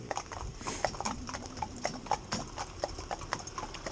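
Hooves of horses in a four-in-hand team clip-clop in a brisk, irregular rhythm of sharp knocks, close and moderately loud, with no voices in this moment.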